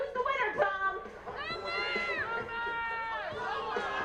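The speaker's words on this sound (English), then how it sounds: "The crowd is yelling." A crowd at a youth baseball game yells and shouts during a mascot race, overlapping high voices rising and falling in excited bursts, fairly close and loud, with children audible among them.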